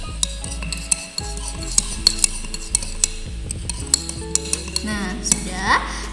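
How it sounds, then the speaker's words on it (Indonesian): A metal spoon stirs salt into water in a drinking glass, making a run of light clinks and taps against the glass over a soft, steady background. "Kita ambil sendoknya, lalu kita aduk. Kita aduk pelan-pelan."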